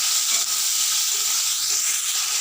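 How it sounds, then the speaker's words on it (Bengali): Shrimp seasoned with salt and turmeric fry in oil in a wok over black cumin seeds, making a continuous, loud, close hissing sizzle with faint stirring and no speech. "নুন হলুদ দেওয়া চিংড়ি মাছ দিয়ে চিংড়ি মাছগুলো আমি ভেজে নেবো"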